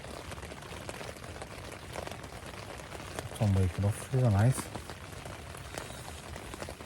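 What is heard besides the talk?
rain on a tent during a wild camp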